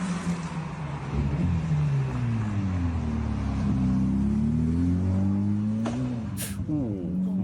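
A Porsche GT3 RS engine drones steadily as the car drives, its pitch rising and falling through gear changes and revs, loud and continuous throughout.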